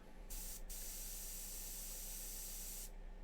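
A fine, steady hiss of an airbrush spraying paint on a plastic action figure runs almost continuously, briefly interrupted near the start, faint and close against a low background hum.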